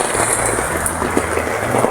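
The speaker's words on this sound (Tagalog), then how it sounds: "It's rainy day!" Steady rain falling on a rainy day, a continuous even hiss with faint patter throughout and no talk.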